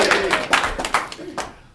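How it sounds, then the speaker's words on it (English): A small pub or club audience claps for a magician named Magic Marco, a brief burst of distinct, close hand claps in an uneven rhythm that thins out and stops within two seconds. "Big round of applause for Magic Marco!"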